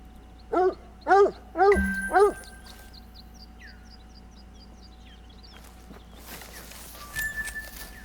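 A hunting dog barking in theHunter: Call of the Wild, four loud yelping barks in a quick regular series, followed by faint birdsong and low ambient game sounds.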